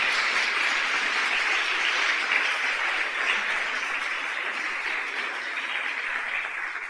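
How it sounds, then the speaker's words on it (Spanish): A church congregation applauds, a dense, steady roar of many hands clapping together that keeps going evenly and fades slightly toward the end. "Denle un aplauso,"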